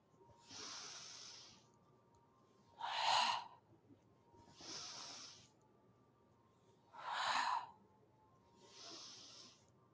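Slow, deliberate breathing during an iaido body-movement drill, with airy inhales and exhales alternating every couple of seconds, close and soft in a quiet room, no talking.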